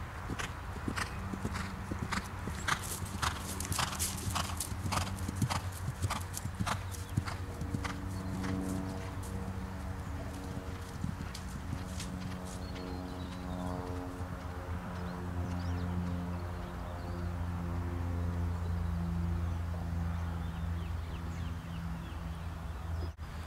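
Horse hooves clip-clop steadily in an even rhythm as the horse is ridden around a course with flags and jumps, close and clear, with faint low background hum and no talk.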